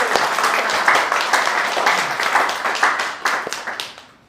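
Audience applause at a New York tech meetup, dense overlapping clapping from a room of attendees, steady and fairly loud for about four seconds before thinning out and stopping.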